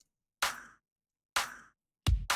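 Layered 808-style clap, tom and kick drum samples hit in a sparse sequence: two sharp clap-like hits about a second apart, then a deeper booming kick-and-tom hit, each clean with quick decay and nothing else playing.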